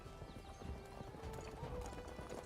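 Rhythmic hooves clip-clop at a steady trot in a Chinese FMV game, with a horse whinnying briefly, all fairly faint and close.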